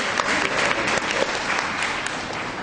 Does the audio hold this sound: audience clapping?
yes